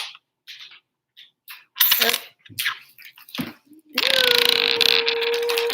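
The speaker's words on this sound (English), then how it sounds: "learning how to flip a coin, spin it, is fun too" A coin spins on a hard surface, giving a few scattered clinks and rattles before settling into a long, steady, ringing whir near the end.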